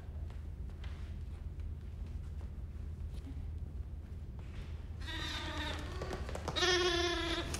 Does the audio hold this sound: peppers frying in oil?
no